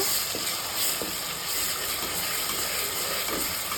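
Ginger garlic paste frying in a pan with onions for chicken curry, a steady close sizzle with a few light clicks of stirring, no voices.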